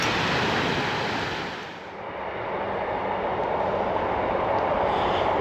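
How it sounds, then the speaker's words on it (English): Train rumbling across a bridge near Hollicombe Beach on the coast, a loud continuous roar that dips briefly and then swells again, with no talking. "as the train crosses over that very bridge that we've just walked under"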